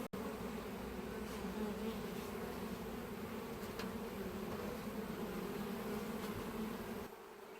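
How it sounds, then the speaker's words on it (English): Many honeybees buzz in a constant, dense drone close by around a beehive, steady and unbroken, with no voices. "there's a lot of bees around me"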